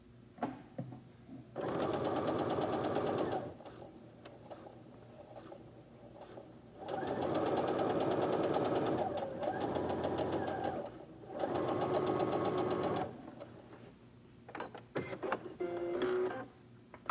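Sewing machine stitching a quilt seam through fabric, three bursts of rapid mechanical whirring and needle clatter separated by short pauses, close and clear with no talking.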